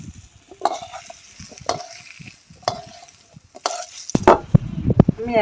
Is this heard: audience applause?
no